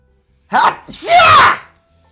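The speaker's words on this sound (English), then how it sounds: "Sorry guys, that was my sneeze." A single loud, close sneeze: a short sharp intake followed by a forceful burst, then quiet.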